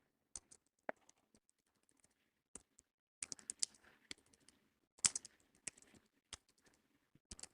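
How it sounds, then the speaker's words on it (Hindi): Typing on a computer keyboard: scattered clicks and short bursts of keystrokes, fairly close but quiet, with irregular rhythm and pauses, and no voices. "मेरी टाइपिंग थोड़ी सी बेकार है,"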